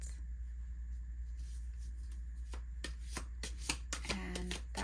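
Tarot cards are shuffled and drawn, giving soft riffling and a few crisp card snaps and taps near the end over a quiet low hum.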